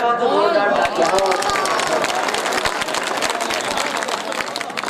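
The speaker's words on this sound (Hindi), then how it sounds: "शेर अच्छा लगा तो जोरदार तालियां" An audience at a mushaira in Adawad, Jalgaon, bursts into loud, sustained clapping after a couplet, with voices calling out over it at the start and the applause continuing steadily throughout.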